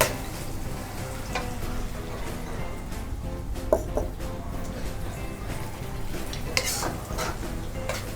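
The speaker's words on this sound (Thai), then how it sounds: "ผัดเลยค่ะท่านผู้ชม" Thai nam prik ong chili paste is stir-fried in a pan, with continuous sizzling and steady scraping of a utensil against the pan, close and moderately loud with occasional metallic clinks.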